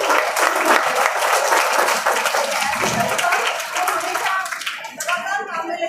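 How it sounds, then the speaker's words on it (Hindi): An audience at a girls' senior secondary school Independence Day celebration breaks into sustained, dense applause, many hands clapping together for several seconds before it thins out, with a voice briefly audible alongside. "तालियां।"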